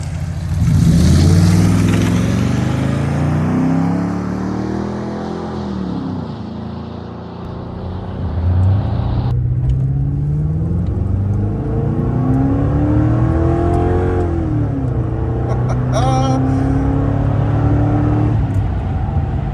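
A car with a Magnaflow stainless steel cat-back exhaust on a Ford Panther platform pulls away and accelerates, the deep exhaust note rising and falling through several gear changes, loud and steady with no talking.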